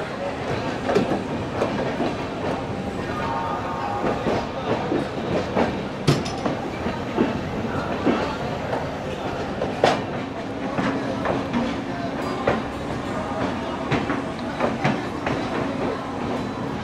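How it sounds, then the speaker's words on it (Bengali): The Howrah–New Delhi Poorva Express rolls past on the next track, a continuous loud rumble with rhythmic clickety-clack of wheels over rail joints, heard from inside a moving train. "দেখো আমাদের ডান দিক দিয়ে কিন্তু চলেছে হাওড়া নিউ দিল্লি পূর্বা এক্সপ্রেস"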